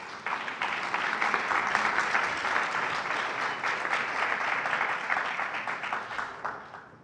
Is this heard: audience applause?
yes